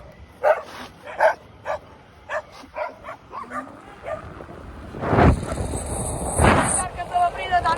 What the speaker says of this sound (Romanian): Da, câinii ăștia civili.